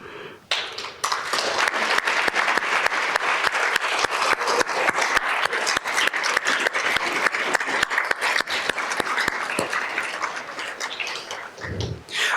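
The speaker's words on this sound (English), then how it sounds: "Let's give a big round of applause to all the alumni" Sustained applause from an audience at a MSU College of Nursing scholarship and alumni awards ceremony, honouring nursing alumni: dense, steady clapping from a large crowd that swells in and fades out after about eleven seconds.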